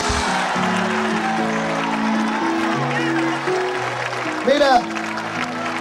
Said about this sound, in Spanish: ¡Dale el aplauso a Dios!